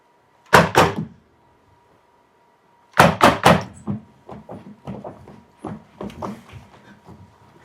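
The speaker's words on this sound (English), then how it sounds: "We'll have to knock and get them up though, if we're to find a guide." Knocking on a wooden door in a stage production: a sharp burst of three raps, a pause, then a longer run of firm knocks that trail off into softer, uneven taps, close and loud.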